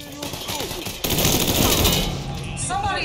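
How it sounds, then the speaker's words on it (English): Gunfire in the Mafia 3 video game: dense, loud bursts of automatic and single shots in a firefight, continuous and close, with game voices shouting briefly over it. "Somebody is shooting at me"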